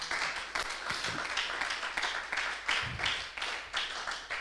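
A church congregation claps and cheers in acclaim of the Lord, with rhythmic hand clapping and rising shouts filling the room at moderate volume.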